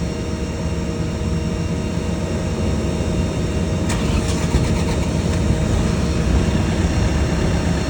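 A Generac generator engine runs loud and close with a steady, dense mechanical roar, and a brief surge near the middle suggests it catching and settling into running. No one speaks.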